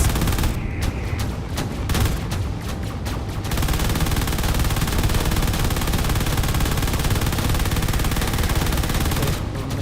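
Rockets and heavy weapons fire in a space combat video game, a dense continuous roar of rapid blasts and explosions with a brief choppy start, loud and close, with no talking.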